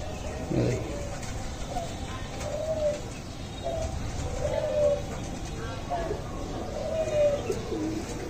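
Pigeons coo repeatedly at close range: king-size high-flyer racing birds kept by a pigeon fancier in Hobiganj, Bangladesh, with soft, rolling coos recurring every second or so over a steady background murmur.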